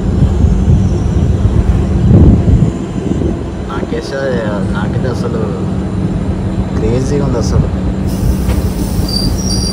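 A passenger train runs from Kurnool to Giddalur through the Nallamala forest, a steady loud rumble of wheels and carriages throughout, with someone talking over it.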